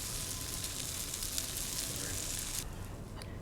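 Celery root pancakes fry in a pan with a steady, faint hiss and crackle of oil that drops slightly in intensity near the end.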